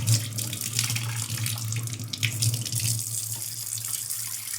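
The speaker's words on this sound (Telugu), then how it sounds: "అంట్లు మొత్తం తోమిన తర్వాత ఇట్లా కడుక్కుంటాం కదా, నీళ్ళన్నీ వేసేసి" Tap water pours steadily into a sink as scrubbed dishes are rinsed, a continuous close splashing hiss with a low hum underneath and no voices.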